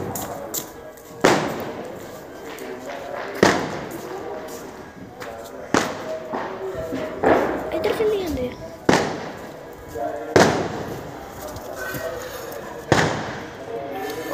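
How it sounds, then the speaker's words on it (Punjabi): Diwali firecrackers burst outdoors at night, a series of sharp, loud bangs every couple of seconds with crackling between them, while people talk nearby. "ਪਟਾਕੇ ਚੱਲੀ ਜਾਂਦੇ ਆਵਾਜ਼ ਹੀ ਨਹੀਂ ਆਉਣ ਡਈ"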